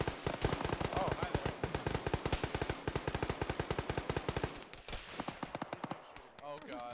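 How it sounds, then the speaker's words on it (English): Heavy .50-calibre machine gun mounted on a vehicle fires in a video game. Long rapid bursts of loud, evenly spaced shots run for several seconds, then break into shorter, more ragged volleys, with voices talking over the gunfire. "Is that a vehicle shooting at us?"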